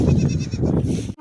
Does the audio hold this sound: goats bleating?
yes